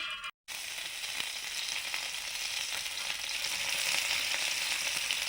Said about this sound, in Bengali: চাউমিনটা এবার ভেজে নেব তেল